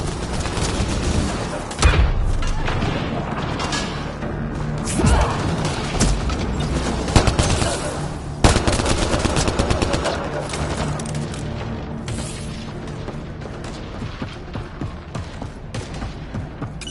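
Sustained gunfire in a chaotic firefight in Mass Effect: Andromeda, with dense overlapping shots and occasional heavier impacts throughout, loud and continuous under intermittent voices.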